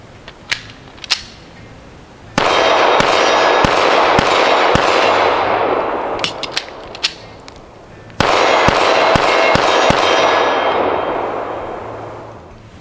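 Sharp gunshots from an Arsenal Firearms Strike One pistol at a SHOT Show 2017 range, loud and close, with single shots at first, then two long bursts of rapid fire over a wash of echoing background shooting.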